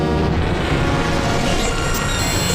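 Waldorf Blofeld synthesizer producing a dense, washy ethereal pad, a continuous loud noisy drone with a shimmering, phasing texture and no break.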